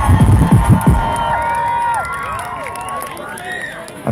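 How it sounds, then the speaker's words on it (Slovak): Festival crowd at a Majales student event in Bratislava roaring and cheering, with a dense wash of shouts and whistles that swells loud at first and then settles into a steady, sustained cheer. "spravte poriadny aplauz pre vás všetky za krásnu atmosféru"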